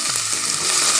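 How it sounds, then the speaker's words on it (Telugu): Onions frying in hot mustard oil for a spicy chicken curry, a loud, close, steady sizzle that grows slightly stronger as it continues. "ఆయిల్ కాగింది కదా, ఉల్లిపాయలు వేసుకున్నామండి"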